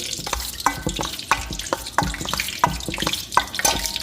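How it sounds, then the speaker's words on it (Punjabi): Gram flour batter mixed with hot oil is stirred briskly for paneer pakoras, giving steady rhythmic scraping and sloshing strokes close by, with no talk. "ਇਹਨੂੰ ਆਪਾਂ ਹੁਣ ਚੰਗੀ ਤਰ੍ਹਾਂ ਹਿਲਾ ਲਾਂਗੇ ਸਾਰੇ ਘੋਲ ਨੂੰ"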